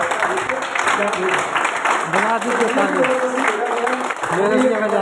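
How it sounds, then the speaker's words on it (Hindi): An audience claps steadily throughout, the applause blending with a speaking voice over a loudspeaker. "तो एक बार उन सब लोगों के लिए ताली बजाओ"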